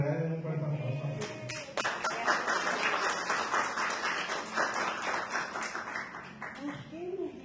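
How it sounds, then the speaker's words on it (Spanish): An audience applauds at a talk event, a dense burst of clapping that swells after a brief voice and carries on for several seconds before fading as talk resumes. "regalen un fuerte aplauso"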